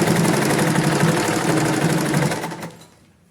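A sewing machine stitches the side seam of a palazzo with a loud, steady, fast rattling hum. It runs close and continuous for nearly three seconds, then stops abruptly. No one speaks.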